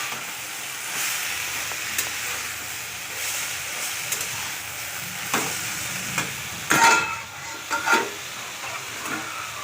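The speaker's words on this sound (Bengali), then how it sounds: "তো শাকটা তো প্রায় আমার সাঁতলানো প্রায় শেষের দিকে, প্রায় হয়েই এসছে।" Leafy greens (shak) sautéing in a pan, with a soft steady sizzle and hiss broken by a few louder scrapes and stirring clatters of a spatula toward the end; no one speaks.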